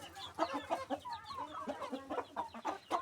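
Roosters scuffle and cluck close by in a rapid run of short, choppy calls and squawks, busy and fairly quiet, with no voices.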